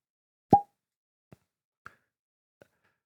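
A cork pulls from a bourbon bottle with one crisp, close pop, followed by a few faint small clicks and taps in otherwise quiet surroundings.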